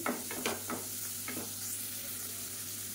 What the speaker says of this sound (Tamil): பாருங்கள் நல்லா வதக்கி விட்டாச்சு